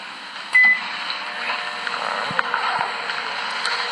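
A microwave oven runs with a steady, low electrical hum and a brief beep near the start, plus faint clicks, all fairly quiet with no voices.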